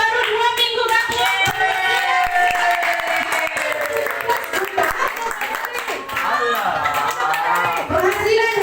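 An audience at a mobile spa business sharing session claps for a new member, continuous clapping mixed with crowd chatter and children's voices throughout.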